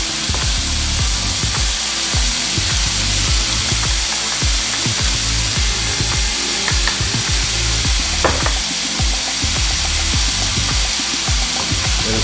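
Garlic stir-frying in a pan for a black pepper shrimp stir fry, a loud steady sizzle with scraping stir strokes throughout, no talking.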